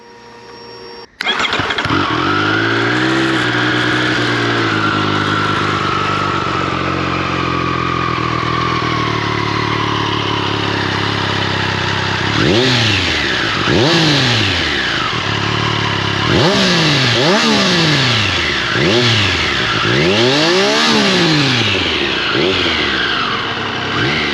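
A 2021 Triumph Street Triple RS motorcycle engine cranks and catches, then settles into a steady close idle before a series of sharp throttle blips rise and fall in repeated revs.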